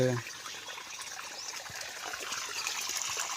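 Irrigation water trickling and flowing steadily through a farm field at a low level, a faint continuous stream with a voice briefly at the start.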